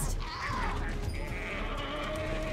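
A goat bleats in the video game Dragon's Dogma: Dark Arisen, a short wavering cry near the start amid busy game noise.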